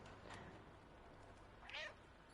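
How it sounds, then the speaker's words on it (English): A cat meows once in the video game Stray, a short faint mewing call over quiet game ambience, preceded by a softer sound. "That's meowing."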